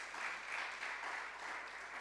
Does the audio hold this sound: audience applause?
yes